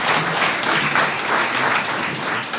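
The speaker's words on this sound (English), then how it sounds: "please a round of applause for your personnel that are coming to the hall." A hall audience at a youth security and peace summit claps in a steady, dense wash of applause that stays loud and even throughout, with no talk over it.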